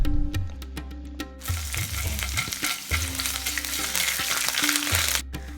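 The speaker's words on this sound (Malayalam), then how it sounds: "അതിലേക്ക് 4-5 വെളുത്തുള്ളി അല്ലി ചെറുതായിട്ട് അരിഞ്ഞതും ചെറിയൊരു കഷ്ണം ഇഞ്ചി അരച്ചെടുത്തതും 1-2 പച്ചമുളക് ചെറുതായിട്ട് അരിഞ്ഞതും ഇട്ട് കൊടുക്കാം" Chopped garlic, grated ginger and sliced green chilli fry in hot oil with a loud, close, continuous sizzle, and the utensil scrapes and taps against the pan as they are stirred.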